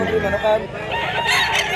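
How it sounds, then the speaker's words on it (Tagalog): Several chickens and roosters at a crowded poultry gathering in Mantalungon, Cebu crow and cluck together in a dense, loud near chorus, with a faint voice mixed in. "Dami ng manok"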